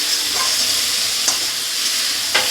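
Potatoes stir-fried in a pan give a steady close sizzle, broken by a few sharp scrapes of the spoon against the pan.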